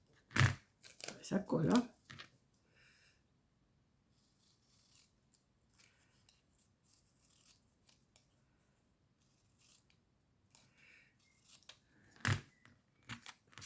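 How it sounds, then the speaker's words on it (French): Scissors cut material at a campsite, with a burst of quick snipping and rustling near the start and a shorter burst near the end, separated by quiet stretches and soft talk. "Voilà, on va découper ça."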